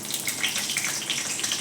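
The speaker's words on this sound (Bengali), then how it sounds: "কড়াতে একটু সর্ষের তেল দিয়েছি, এবারে এর ভেতরে কালো জিরে ফোড়ন দিলাম আর তার সাথে দুটো কাঁচা লঙ্কাকে ফাটিয়ে দিয়ে দিচ্ছি" Nigella seeds and two slit green chillies hit hot mustard oil in a kadai, giving a steady, close, fairly loud crackling sizzle with no voices over it.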